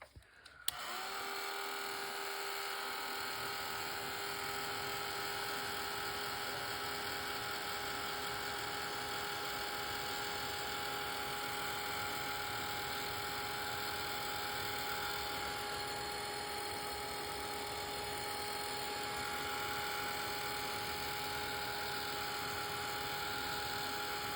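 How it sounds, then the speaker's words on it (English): A hair dryer blows on a wet surface with a steady, even whir that runs continuously from start to finish, close by and with no talking. "I'm going to hit this with the dryer just for a sec."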